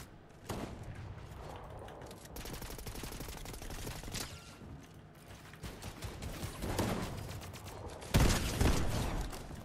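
Dense gunfire in a Fortnite ranked match, with rapid sustained bursts and sharper loud shots that stack up near and far across the whole stretch.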